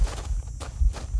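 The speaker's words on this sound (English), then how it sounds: "Footsteps are so loud." Footsteps in the video game Halo: Combat Evolved, loud heavy thuds in a quick steady rhythm over a dense low rumble of game background noise.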